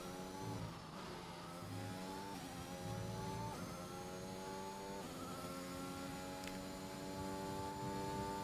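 Formula 1 car engine in a racing video game, revving hard on an out lap with rising whining pitch sweeps and gear shifts, loud and continuous throughout with no voices.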